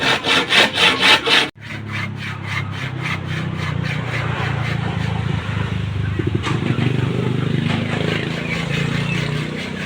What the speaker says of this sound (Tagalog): Naglalagari.